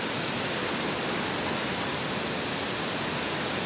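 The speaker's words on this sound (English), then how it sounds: "Look at the waterfalls." A Black Forest waterfall at Schramberg, Germany, in winter, heard as a continuous, dense roar of falling water, steady and fairly loud, with no other sounds.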